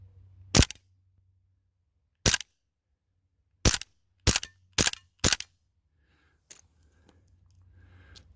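Gas-powered airsoft pistol fired at a 20-yard target outdoors: six sharp, close pops spaced irregularly, the last several in quicker succession, followed by faint hissing and a weak final pop as the gas runs out.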